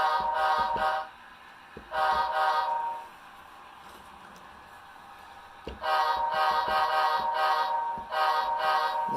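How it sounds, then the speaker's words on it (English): A model train horn on a home railroad layout sounds the shave-and-a-haircut rhythm: a sustained chordal blast, a short pause, another blast, then a longer gap before the final pair of honks, clear and close. "That's a shave and a haircut horn sequence."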